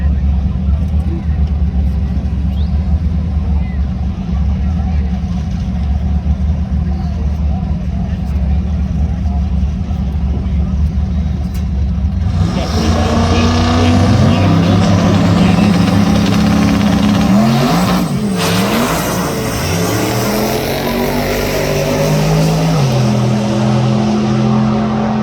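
Chevrolet Monte Carlo and S10 street cars at a drag strip at US131 Motorsports Park: a steady low engine rumble builds midway into loud, layered revving and roaring acceleration that stays intense to the end.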